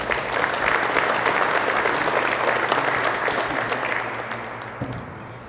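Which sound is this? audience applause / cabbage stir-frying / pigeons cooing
audience applause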